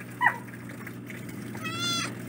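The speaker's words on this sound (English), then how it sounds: "I heard a cat crying over there" A stray cat, likely female with pale calico-like coloring but no orange, gives a short faint meow followed by a longer, louder crying meow outdoors over a low background hum.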